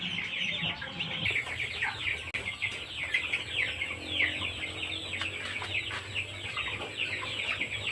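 Backyard farm chickens around 45 days old cluck and chirp in a busy, layered chorus, repeated short calls from many birds at moderate distance over a low steady background hum.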